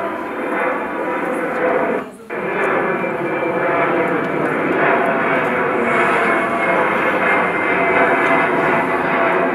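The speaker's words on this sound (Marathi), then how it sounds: "अशी विमानं किती बघत बसलंस?" A propeller or jet airplane drones overhead continuously, loud and near with a steady roar and a brief dip partway through, heard in an outdoor village setting.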